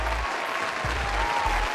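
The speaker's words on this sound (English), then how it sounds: "Yeah, so much applause from my crowd, you know." A canned crowd-applause sound effect plays on a storytelling podcast, a continuous dense clatter of clapping at an even level, with a low hum pulsing underneath.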